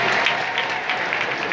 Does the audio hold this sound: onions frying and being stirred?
no